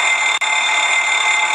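Cockpit right engine fire alarm on an airliner: a loud, continuous shrill electronic ringing tone held steady for over a second, with two very brief dropouts.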